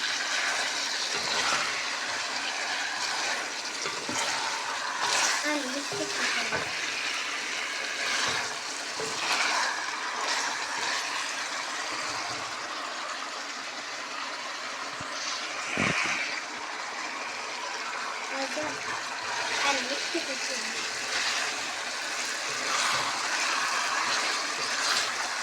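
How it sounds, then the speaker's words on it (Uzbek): Carrots frying in hot oil in a large pot for Bukhara-style plov, a continuous broad hiss and sizzle, steady and moderately loud with a few faint stirring knocks, no talking. "Yaxshilab qovuramiz sabzimizni."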